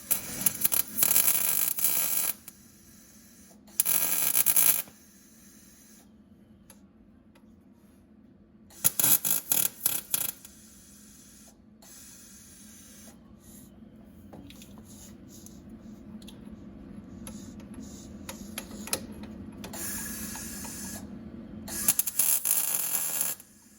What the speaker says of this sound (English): I'm gonna bring the welder over here and try to get that sucker tacked up